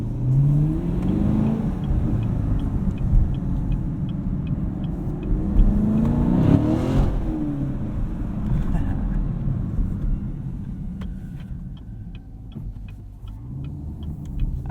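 A 2018 Chevrolet Camaro 2SS with a six-speed manual pulls hard from inside the cabin at night, its engine note rising and falling through a couple of sweeping acceleration runs over steady road rumble, no talk over it.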